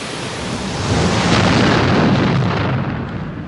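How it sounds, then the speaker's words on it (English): A volcanic eruption blasts out magma and gas in a continuous, loud, rumbling roar that swells gently and holds steady throughout, with no voices. "These erupt when magma below forces its escape."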